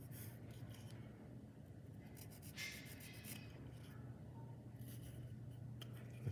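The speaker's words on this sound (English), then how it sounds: "Mark your pencil line." A pencil scratches a marked line on wood at a woodworking bench while a pin board joint is laid out, producing faint, soft scraping strokes over a steady low hum, close and quiet.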